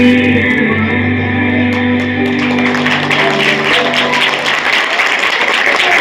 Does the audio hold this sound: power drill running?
no